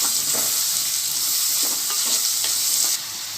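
Continuous close sizzle of tomatoes frying in a pan for village-style fish curry, punctuated by several short scraping stirs of a spoon; no voices.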